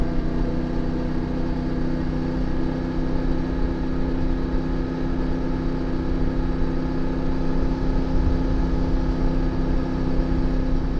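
A CF Moto 450MT motorcycle cruising an alpine mountain road, its engine a steady, even drone with a constant hum and rushing wind. The note holds level throughout with no voice heard.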